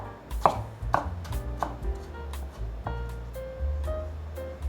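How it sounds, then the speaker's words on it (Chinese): A knife chops cucumber into thin shreds on a cutting board, a quick run of sharp near taps that slows toward the end, with no talk. "把小黄瓜切成细丝。"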